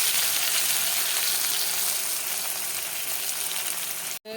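Garlic fries in hot oil while cooking egg tarka, giving a steady, loud, close sizzle with no talking, cut off by a brief dropout just before the end.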